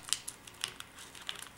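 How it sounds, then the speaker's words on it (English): Paper being folded into an origami dragon gives a few faint, close crinkles and sharp creasing ticks, scattered and quiet, with no speech. "then you want to fold this tip right here"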